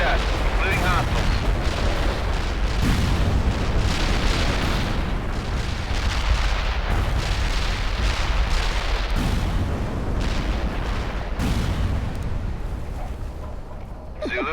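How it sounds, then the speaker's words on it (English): Heavy artillery barrage in World in Conflict: dense, continuous rumbling explosions with repeated heavy booms, loud and close, with radio voices talking over them. "Heavy artillery barrage inbound."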